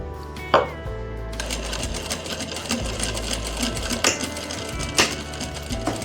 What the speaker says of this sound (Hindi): जहाँ ये बैठेगा मैं वैसे ही सिलाई अब फिनिश कर दूंगा।